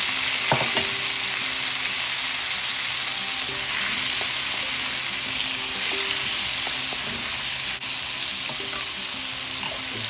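Chopped garlic and tomatoes sizzle loudly in a pan for Vietnamese crab noodle soup, a steady close frying hiss with occasional stirring clinks, no voices.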